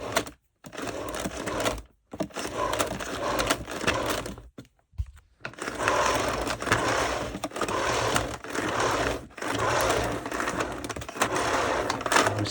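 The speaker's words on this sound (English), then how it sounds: "This mechanism is a lot more smoother to wind the cable in" A Numatic vacuum cleaner rewinds its 12.5 metre cable into the machine with a continuous whirring, rattling mechanical sound, close and moderately loud, coming in long runs broken by short pauses.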